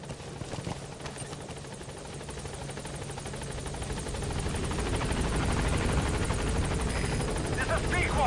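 In the Metal Gear Solid V video game, the helicopter Pequod approaches the landing zone, its rotor drone and rhythmic blade chop building steadily louder and closer, with a voice speaking over it.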